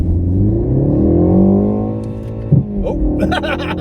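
A BMW M135i (F40) launches with brake boost: the engine holds a loud, droning rev, then pulls hard with a rising note, broken by a quick gear-change thump partway through before acceleration resumes.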